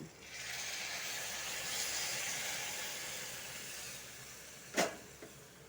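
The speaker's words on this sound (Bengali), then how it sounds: "মশলার সাথে পাঁপড়টা ভাজা হয়ে গেছে এখন গরম জল ঢেলে দিব" Hot water poured into a pan of spices and papad frying together for a vegetarian potato and pointed gourd curry: a broad, steady hissing sizzle lasts about four seconds, and a sharp clatter comes near the end.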